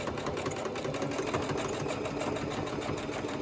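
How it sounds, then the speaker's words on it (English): A sewing machine back stitches a fabric pouch in a rapid, even mechanical chatter that runs steadily at close range and low volume, with no voices. "Make sure you're holding them together well, or you can use clips that help you keep it straight."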